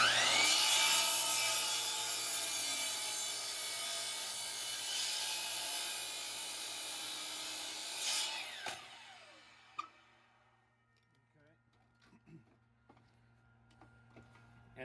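A hand saw cuts a wooden stair rail, dense rasping strokes running steadily for about eight seconds before stopping, followed by a few light knocks and handling sounds in a quiet room.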